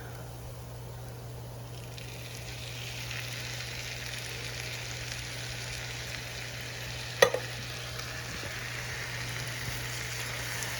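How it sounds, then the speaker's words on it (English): Sloppy Joe sauce goes into a hot pan, giving a steady, even sizzle throughout with one brief clink of a utensil. "Now we are going to add in our Sloppy Joe sauce."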